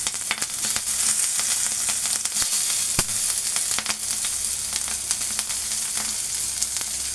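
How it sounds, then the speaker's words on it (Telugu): Capsicum sizzles in hot oil in a pan for fried rice, a continuous crackling hiss broken by sharp pops and occasional stirring clicks. "ఈ ఆయిల్లో క్యాప్సికమ్ అనేది వేసుకోవాలి."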